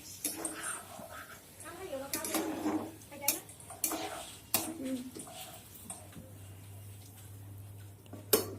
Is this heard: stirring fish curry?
yes